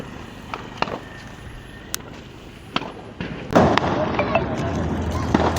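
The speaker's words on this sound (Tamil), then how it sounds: "சரத்தை போடுறா." A string of Diwali firecrackers in Tamil Nadu sets off a few scattered sharp pops, then a dense, continuous crackling burst of rapid explosions, with people talking throughout.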